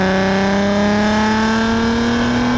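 A Nissan 370Z Roadster engine revs steadily and loudly, with its pitch climbing slowly. The tone is buzzy and a little rattly, and no voices are heard.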